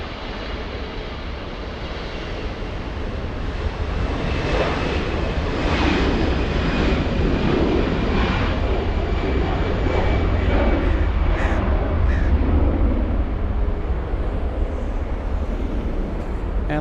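A big airliner at Los Angeles International Airport (LAX) roars steadily and loudly, its broad engine rumble swelling slightly and holding for over fifteen seconds without a break.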